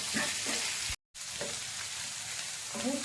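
Goat tripe pieces frying in a pan for gongura boti curry, a steady bright sizzle with a few soft stirring scrapes, cut by a brief dropout near the one-second mark before the frying continues.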